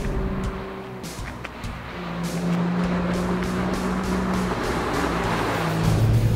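A BMW 1M Coupe is driven hard, its engine droning and rising through the revs with shifts and a brief tire squeal, heard loud from inside the car.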